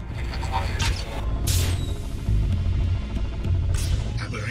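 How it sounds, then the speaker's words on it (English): A vacuum drive in the video game Headlancer gives off a steady low hum with a throbbing pulse. Short hissy whooshes and bursts from the game cut in over it, and no one speaks. "Looks like that jolt brought your vacuum drive online."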